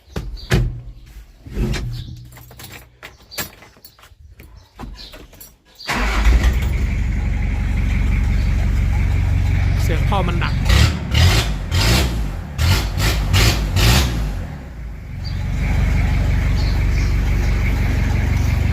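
Toyota Mighty-X pickup with a broken exhaust pipe: a few scattered knocks and clicks, then from about six seconds the engine runs loud and close in a steady, continuous drone with slight rises in pitch, and no voices.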